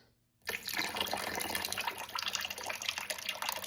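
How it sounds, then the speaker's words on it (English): Dark liquid being poured off the top of a sourdough starter makes a steady, close splashing stream that starts suddenly after a brief quiet moment and runs on without pause. "pour off all of that dark liquid"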